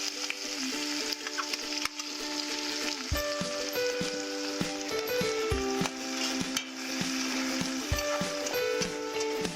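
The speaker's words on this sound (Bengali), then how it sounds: "পেঁয়াজ কুচিটাকে আমি ব্রাউন কালার করে ভেজে নেব।" Chopped onion frying in leftover oil after fish bora, a steady close sizzle with metal spatula scrapes and clinks against the pan, while a faint tonal hum runs underneath, no talk.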